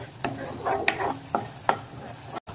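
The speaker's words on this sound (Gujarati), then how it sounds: "સારી રીતે મિક્સ કરી દઈશું." Whole eggplant curry being mixed with spice in a pan, a few separate scraping stirs over a soft background sizzle, close by with no talking.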